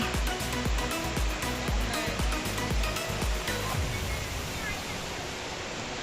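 Waterfall pouring over rocks in the Nilgiri hills, a loud, steady broadband rush of water, with rhythmic low thumps in the first seconds.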